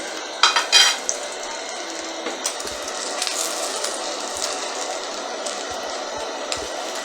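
French butter toast slices frying in a pan, a steady soft sizzle running throughout with a few clinks and scrapes of a utensil against the pan near the start.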